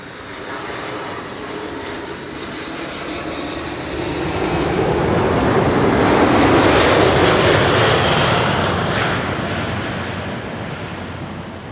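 A KLM airliner lands at Schiphol on the Kaagbaan runway, its jet roar swelling from a steady rush to a loud peak as it passes close, then easing off slowly, with no voices.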